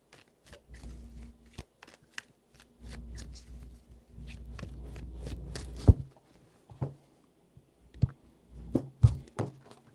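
Tarot cards are shuffled in three quiet bursts of riffling and soft tapping close by, separated by brief pauses and a few sharper knocks of the deck on a surface; no one speaks.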